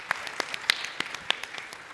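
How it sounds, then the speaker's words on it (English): Sparse, scattered claps from a small conference audience applauding a speaker at a sustainable development event, a handful of distinct, fairly faint hand claps spread over two seconds. "I want everyone to give you a round of applause for sharing your personal story"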